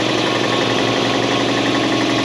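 A 1968 Ariens Sno-Thro snow blower engine runs steadily at low speed, a loud continuous mechanical drone with a faint knocking texture and no voices.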